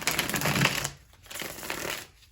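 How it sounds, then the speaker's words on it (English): Quick riffling clatter of cards being shuffled, a dense burst that pauses briefly and then resumes, close by. "love shuffling these cards"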